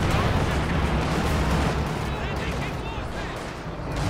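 In a World War II strategy video game, a KV tank fires on its own side, producing heavy booming cannon and gunfire blasts that crowd together densely, with a commentator talking over the battle noise.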